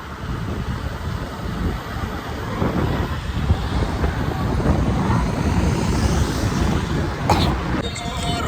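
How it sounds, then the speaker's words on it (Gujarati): An airplane's engine gives a steady, broad roar mixed with wind rush, moderately loud and slowly swelling before a brief bright burst near the end. "આ છે મારું પ્લેન."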